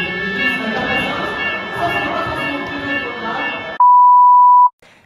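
A fire alarm sounds during a live concert broadcast at a French final for blind and visually impaired singers: a single loud, steady electronic tone cuts in abruptly after crowd and music noise, holds for about a second, then stops.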